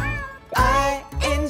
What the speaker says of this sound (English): There was a farmer who had a cat, and Bingo was her name-o.